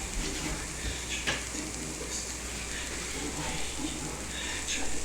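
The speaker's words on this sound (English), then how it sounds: "Got the butter and garlic going." Butter and garlic sizzle in a pan with a steady, close, bright hiss that holds for several seconds, with occasional stirring scrapes.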